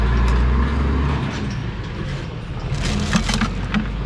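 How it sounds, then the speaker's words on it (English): A truck rumbles past outdoors, a low heavy engine drone up close at first that thins into broadband road noise as it moves on. "Did you hear that truck that just went by?"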